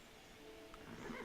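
A horse whinnies in the strategy game Civilization 5, a brief, faint neigh at low volume near the end of the moment, with no talking.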